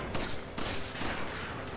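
Game gunfire from Resident Evil 5, a quick burst of loud shots with broadband cracks over a dense, continuous wash of game noise, no talk over it.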